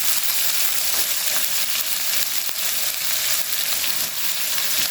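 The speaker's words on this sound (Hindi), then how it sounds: "कीमा हमने बहुत अच्छे से भून लिया है।" Browned keema fries in oil in a pan, sizzling loud and steady throughout with a constant hiss.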